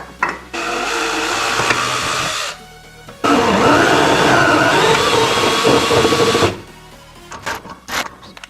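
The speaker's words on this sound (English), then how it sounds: "we're definitely going to have to drill a hole" A power drill whirs loudly in two long bursts boring a hole through Arctic Cat snowmobile bodywork, a brief pause between them, then winds down into scattered clatter and handling noises.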